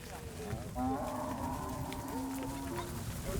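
Cattle lowing in long, drawn-out moos with a herd bawling and overlapping, traveling with camel-trading herders toward the small town of Tchintabaraden, steady crowd-like murmur and voices mixed in throughout.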